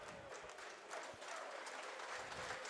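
Team players stand and applaud on the pitch before a rugby league match, Sheffield Eagles at home, giving a steady dense patter of clapping that fills the whole moment with crowd noise beneath.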